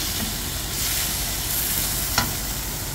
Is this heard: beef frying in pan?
yes